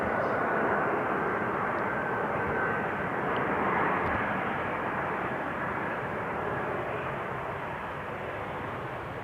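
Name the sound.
KLM Embraer 190 jet landing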